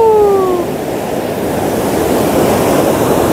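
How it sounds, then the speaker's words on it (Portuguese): Ocean waves at Praia Sitio do Conde beach in Bahia, a loud, continuous roar of surf mixed with wind buffeting the microphone, with no voices. "Morro de medo dessas ondas."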